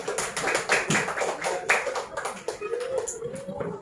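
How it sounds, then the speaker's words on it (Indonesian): A group claps in a burst of applause, irregular hand claps close by, with some voices mixed in. "Tepuk tangan untuk kelompok 2."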